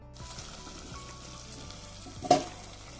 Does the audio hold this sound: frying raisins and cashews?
yes